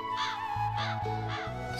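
A crow gives about four harsh, evenly spaced caws, loud and close, over a low musical backing.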